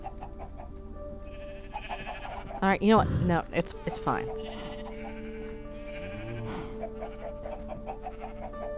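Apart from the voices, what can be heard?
sheep bleating in the video game Minecraft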